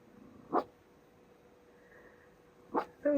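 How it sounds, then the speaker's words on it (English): A dog gives two or three soft, muffled woofs, one alone and then a short pair near the end, with quiet gaps between them. "Quiet woof."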